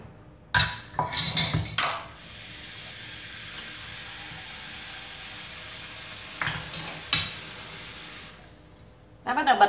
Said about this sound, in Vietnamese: Ta bắt đầu bật bếp lên, mình rang lửa nhỏ thôi các bạn ạ